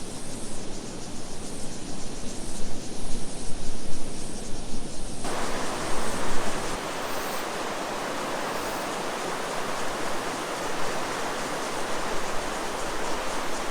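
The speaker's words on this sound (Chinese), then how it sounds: "中间是一道急流，在旁边形成了一个回转流" Loud, steady roar of rapids on the Lele River in Hualien rushing close by, a continuous wash of churning water beside a side eddy, with no voices.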